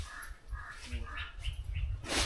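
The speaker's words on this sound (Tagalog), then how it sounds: "May uwak." A crow caws several times in a row at night near a rock islet in the sea, the calls fairly faint over steady low rumble and some nearby movement, with a louder burst at the end.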